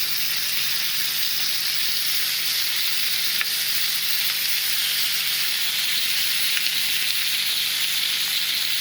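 Pieces of food sizzle steadily in a hot pan as they are flipped over, a constant bright frying hiss running throughout with a couple of faint clicks, no talking.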